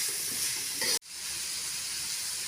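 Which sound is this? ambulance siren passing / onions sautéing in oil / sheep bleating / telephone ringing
onions sautéing in oil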